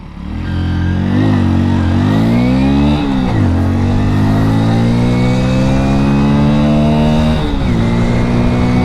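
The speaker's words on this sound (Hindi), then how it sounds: "अच्छे से पुश करते हैं और देखते हैं कि ये बाइक परफॉर्मेंस में कैसी है।" A Hero Splendor Plus BS6 motorcycle accelerates hard in first gear, its loud close engine note rising steadily in pitch, dropping briefly near three seconds and again near seven and a half as the revs climb.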